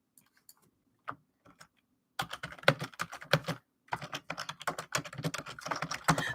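Computer keyboard typing during a live stream about knitting: a few isolated key taps, then a quick, close burst of clattering keystrokes with short pauses.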